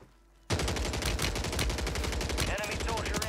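In a Warzone 3 match, the Haymaker gun fires a sudden, continuous burst of rapid, loud shots that runs without a break after a brief quiet start, with a faint voice late in the burst.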